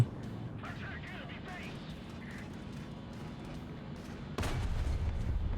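A tank cannon fires in War Thunder, playing an AuF1 self-propelled gun, with a sudden loud boom near the end over a steady battle rumble, and someone talks beforehand.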